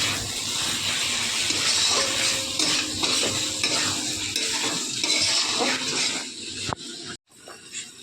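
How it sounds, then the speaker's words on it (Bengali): Spicy prawn curry masala stir-fried in a pan, with continuous scraping and stirring over a steady sizzle and bubbling, ending in a brief clatter and near-silence. "এবারে সব কিছু একসাথে ভালো করে কষিয়ে ঢাকা দিয়ে দেবো।"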